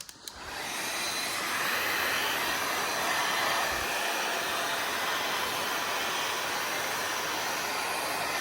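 Steady, loud hot-air roar of a heat gun blowing on a Ford Focus ST225 wheel during ABS fault repair and refurbishing, rising to a constant whoosh after a brief start and holding unbroken throughout.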